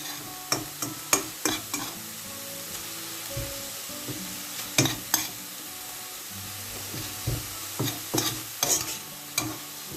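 A spoon stirs a bourek filling mixture in a pan with a light sizzle underneath, giving irregular clinks and scrapes against the pan, some in quick clusters and others spaced apart.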